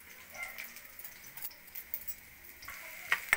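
Onions sizzling in hot oil in a pan for mini samosa filling, a soft steady crackle with small pops and faint clicks of stirring, fairly quiet and close.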